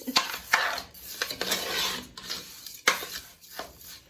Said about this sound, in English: You have to like kind of stir it because you don't want it to like get burnt. So I'm still stirring it.